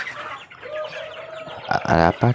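Semi-free-range chickens kept inside a boundary fence cluck and squawk close by, with a thin drawn-out call followed by a loud, harsh burst of clucks near the end.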